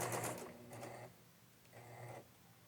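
A sewing machine running stay stitching on dress fabric for a beginner 1950s-style dress, sounding in two or three short whirring bursts close up, separated by brief pauses.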